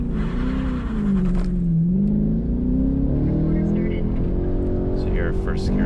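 A Chevrolet Camaro SS 1LE at an SCCA Champ Tour autocross in New Jersey accelerates hard in first gear, its engine droning loud and steady, pitch rising toward the top of the gear with faint tire noise at the end.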